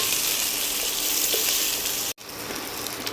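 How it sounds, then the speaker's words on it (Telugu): Green chilies frying in hot oil in a pan, a loud dense sizzle right up close, broken by a sudden momentary cutoff before the sizzling resumes. "ఇందులో మనం పచ్చిమిర్చి వేయించుకుందాం ఇందులో మనం కొంచెం ఆయిల్ వేసుకుందాం"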